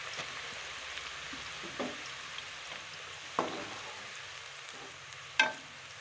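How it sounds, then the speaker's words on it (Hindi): Onions fry in oil in a kadai with a soft, steady sizzle and hiss, broken by a few sharp clinks of a utensil against the pan, quiet and close with no speech. "अब मैं प्याज को फ्राई करूँगी"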